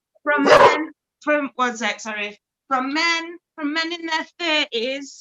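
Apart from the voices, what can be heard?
dog barking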